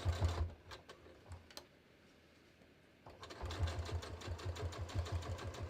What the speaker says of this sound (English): So basically now I'm just going to stitch.